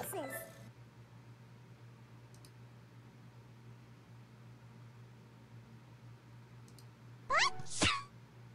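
A single sharp sneeze bursts out near the end, close and loud after a long stretch of quiet room hiss with a steady low hum, during a tic-tac-toe game.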